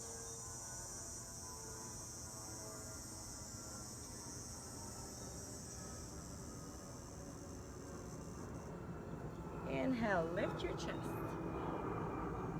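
An airplane passes overhead during an outdoor flexibility workout, a broad steady drone that swells toward the end, while an instructor gives spoken cues over it.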